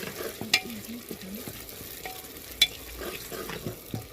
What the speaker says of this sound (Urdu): پہلے پیاز کو فرائی کریں گے اچھے سے.